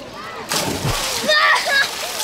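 A cannonball jump hits the pool water at a water park with a loud splash and sloshing, followed by excited voices of children and adults talking over the churning water.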